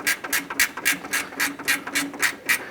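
A 10mm gear wrench loosens a bolt on the radiator support bracket of a 2008-2013 Nissan Rogue, making about ten quick, even ratcheting clicks close up with no talk.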